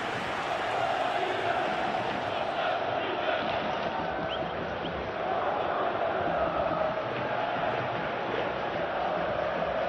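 Steady crowd noise with applause and cheering from a large stadium audience in a PES 2021 football match, continuous and fairly loud throughout.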